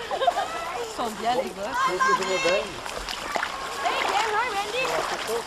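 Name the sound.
splashing while getting into the water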